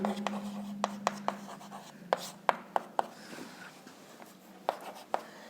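A pen scratches out a maths problem by hand on paper, close up, with quick strokes and sharp taps in an irregular rhythm, over a faint steady hum and no talking.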